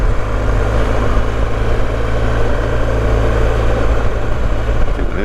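A motorcycle engine hums steadily and loud throughout while being ridden on a hot day in northern England, a constant low drone with wind rush and no talking.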